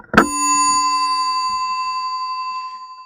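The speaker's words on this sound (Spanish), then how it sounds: "¿Se acuerdan que es esta campana, verdad?" A single struck bell rings out once, a sharp close strike followed by a clear tone that slowly decays over about three seconds, heard alone.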